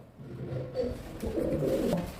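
Soft, low pigeon coos repeat in a steady rolling rhythm, fairly close, with faint rustling behind them.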